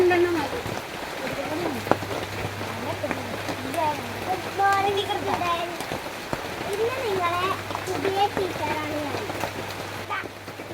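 Heavy rain falling outdoors, a constant hiss of drops on surfaces running steadily beneath someone talking throughout.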